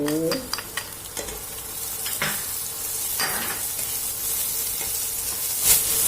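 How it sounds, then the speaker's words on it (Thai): Garlic and bird's eye chilies stir-fry in a few spoonfuls of oil for a Thai long bean and shrimp dish. A steady sizzling hiss runs throughout with scattered scrapes and clacks of a spatula against the pan, without speech. "เราจะผัดให้กระเทียมและพริกมีความหอมเล็กน้อย"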